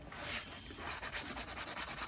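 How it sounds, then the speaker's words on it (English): Steady rhythmic rasping of sanding and filing on an aluminum fishing lure, close up and fairly quiet, with repeated back-and-forth strokes and no voices. "I'm sanding away and filing away at it."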